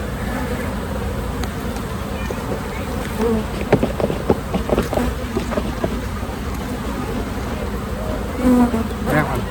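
Honey bees from a hive that is open for its first inspection of the year buzz loudly and steadily close by, with a few faint knocks and clicks of frames being handled.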